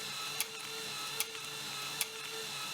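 A mechanical Morse tape telegram printer runs with a steady whirring hum, its steel bars and ink ribbon cycling, punctuated by three sharp regular clacks spaced just under a second apart.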